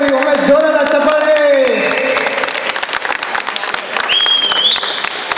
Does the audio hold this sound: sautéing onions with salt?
no